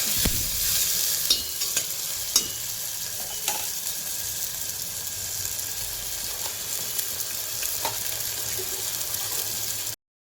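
Onions turning brown in a pan for an aloo curry, giving a constant soft sizzle with occasional scrapes and knocks of a spoon as they are stirred. The sound runs steadily for about ten seconds, then cuts off.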